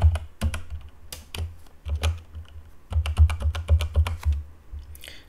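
Keys on a computer keyboard clatter in irregular bursts of quick taps with short pauses, the typing close and clear while a username and password are entered.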